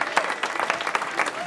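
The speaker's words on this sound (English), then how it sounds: "You guys can give yourselves a round of applause for that." An audience applauds at a canned food drive kickoff, a dense burst of many hands clapping at close range, steady and lively across the whole stretch.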